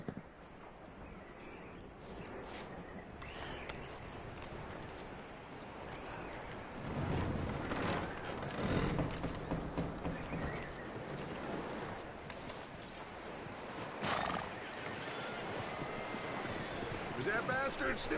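In the video game Red Dead Redemption II, horse hooves clip-clop steadily over a continuous outdoor ambience, with voices speaking intermittently over the rhythmic trotting.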